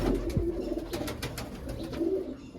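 Big fancy-breed pigeons in a Punjabi hobbyist's loft give soft, rolling coos, two or three phrases spaced across the moment, close and moderately loud with light background noise.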